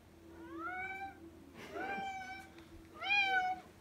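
A young cat lets out three drawn-out meows, close and fairly quiet, with short pauses between them and no talk.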